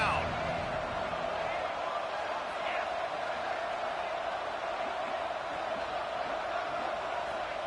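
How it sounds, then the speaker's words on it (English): Red Raider football crowd cheering on a third down to back its defense, a steady broad roar from the stands that holds throughout without letup. "The Red Raider crowd rising to the occasion to help its defense on 3rd down."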